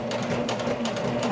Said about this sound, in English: so there I've sewn through all 4 layers of that first intersection.